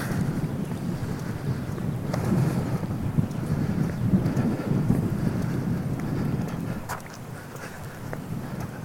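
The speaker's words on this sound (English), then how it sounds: "Kind of windy here on the dam." Wind rushes and buffets over a dam in a steady, broad roar with gusty swells and occasional microphone thumps, and no one speaks.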